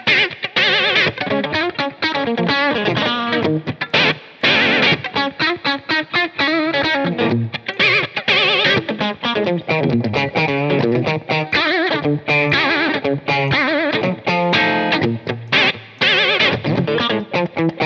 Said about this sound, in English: I got a really fast vibrato going on